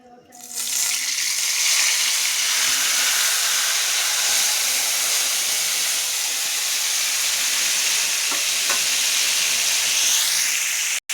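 Marinated chicken drops into a hot pan and fries with a loud, broad hissing sizzle that bursts in suddenly and holds steady throughout.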